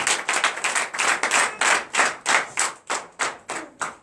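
A congregation claps in unison during a Sunday worship service, a steady rhythmic beat of sharp, loud, evenly spaced claps with no talking.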